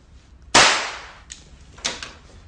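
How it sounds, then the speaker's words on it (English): A cap gun fires one sharp, loud crack that rings briefly, followed by two fainter snaps about a second later, in an otherwise quiet room. "Cap gun."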